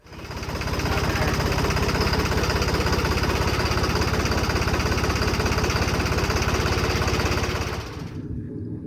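A model 3630 tractor engine idles with a loud, steady chugging knock that runs for about eight seconds before abruptly dropping away, with no speech over it.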